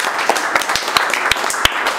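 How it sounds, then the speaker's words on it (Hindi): Students at a chip-level mobile phone repair training class clap for a few seconds, with scattered, uneven claps from a small group close by and no one speaking. "इनके घर वालों के जोरदार ताली बजाओ"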